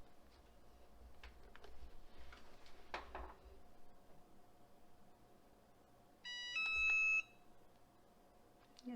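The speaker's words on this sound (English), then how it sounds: "That was saying, that was the beep that it just hit 360" A heat press beeps once it reaches 360 degrees while sublimating onto wood: a short, bright electronic beep of about a second, clear over a quiet room hum with faint background clicks.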